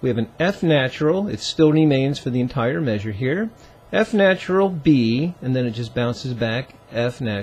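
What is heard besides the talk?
None of the usual background noises is heard.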